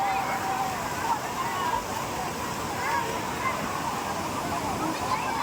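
Water rushing over Akkadevi Dam at Chirner, Uran, a steady broad roar of falling water, loud and continuous, with a crowd of people talking and voices mixed in.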